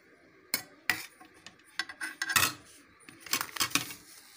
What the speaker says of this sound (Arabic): وغادي نحرك هادشي مزيان